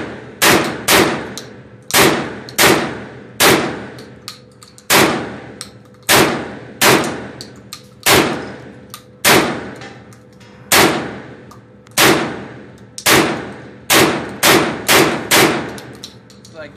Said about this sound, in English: Blasting away on the converted Saiga 12.